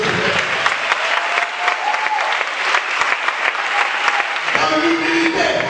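A church congregation breaks into loud, sustained applause acclaiming God, with dense clapping and some crowd noise filling the whole stretch.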